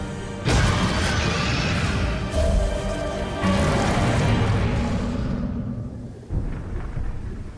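Thunderstorm in a Throne and Liberty game cutscene: a loud rolling thunderclap breaks in, rumbling on for several seconds before fading, then a second crash follows, with rain noise beneath and no voices.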